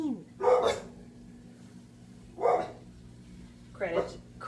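A dog barks in three separate bursts a couple of seconds apart, loud and close over a low steady hum.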